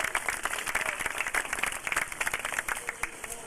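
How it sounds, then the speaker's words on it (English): Audience applause at a live marine animal show in Oahu, Hawaii, a steady spread of many hands clapping at moderate distance throughout, with a faint voice briefly mixed in. "How about a big round of applause for our practical joker, Spike?"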